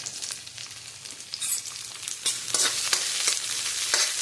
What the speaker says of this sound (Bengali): পেঁয়াজটা দিয়ে দেবো, পেঁয়াজটা ভেজে নিয়ে এর সাথে আলু ভেজে নেবো